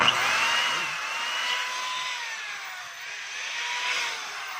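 A DeWalt DWD022 3/8-inch hammer drill with a broken chuck runs on test, giving a steady, close whirring motor whine that holds for the whole stretch with slight swells and no talking.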